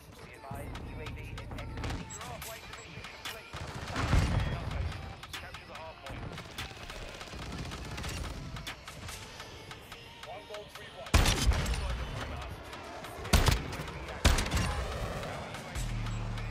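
Expedite 12 shotgun blasts in the video game Modern Warfare 2: several loud, booming shots stand out at irregular intervals over a busy bed of game noise and other gunfire.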